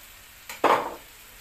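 Canned mushrooms hit a hot pan with one short, close sizzle that quickly fades.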